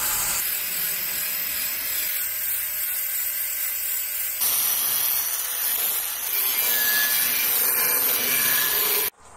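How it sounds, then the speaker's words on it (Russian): A metal wire brush scrubbing solid wood for a table top, a loud, continuous bright scratching that runs steadily for about nine seconds, then stops abruptly. "Теперь при помощи металлической корщетки убираю сначала, а потом буду проходить мягкой."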